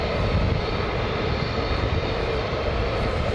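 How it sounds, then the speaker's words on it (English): An F-15 jet's engine roars steadily at RAF Lakenheath at night, a broad, constant rushing drone at moderate distance with no talking. "F-15's moving."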